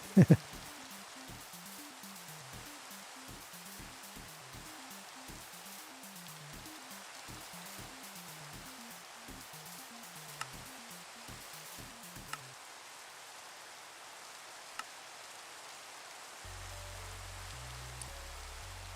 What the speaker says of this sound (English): You want me to turn off rain?